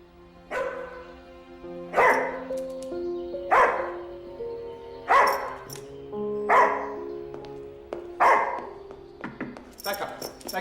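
A dog barks indoors in a string of loud, close barks about every one to two seconds, with a person talking over it.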